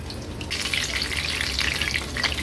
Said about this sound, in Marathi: उलट पालत करून हाय टू मीडियम फ्लेमवर ही भजी तळून घेते